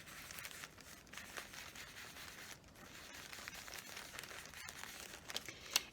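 The edge of a cut book page is distressed by hand for a journal, giving soft, faint scratching and crinkling rubs in short irregular strokes, close and quiet with no talk.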